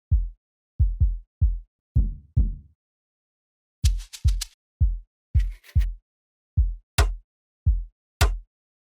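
Amapiano percussion loop built in FL Studio: deep booming log-drum hits in a syncopated pattern, joined by sharp bright clicks and shaker hits, clean and close with no talk.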